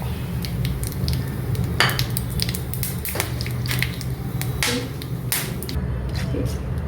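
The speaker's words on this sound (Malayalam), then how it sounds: "അത് നമുക്ക് ഈ എണ്ണയിലേക്ക് ഇട്ടു." Whole spices, including mace, dropped into hot oil for a chickpea biriyani, giving a steady close sizzle with scattered crackles and pops throughout.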